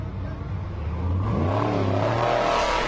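An off-road race truck revs hard and pulls away from the Baja 400 starting line, its mid-pitched engine climbing and sweeping loud and close over a few seconds.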